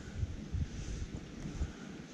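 Wind gusting beside a river during fly fishing for wild brown trout, a steady low rumbling buffet on the microphone with several stronger surges, loud and continuous, no talking.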